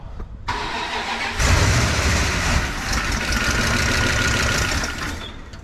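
A 1988 Dodge Power Ram engine that sat unused for 23 years cranks briefly, then catches and keeps running with a rough, loud, steady idle, close by and with no talking over it.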